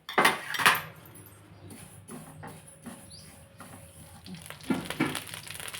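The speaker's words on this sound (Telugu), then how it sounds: "పల్లీలు వేయించుకోవాలి." Peanuts are dry-roasted and stirred in a pan for a ridge gourd peel chutney, giving a light rattling scrape and clinks at the start and end with a soft sizzle between.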